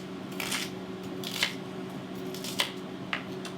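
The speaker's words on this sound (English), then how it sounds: "we're just going to take about 1/4 of an onion. That's a small onion. We're just going to cut into little pieces." A small onion is cut into little pieces with a knife on a board, giving several distinct crisp chops spaced irregularly under a low background hum, close and fairly quiet.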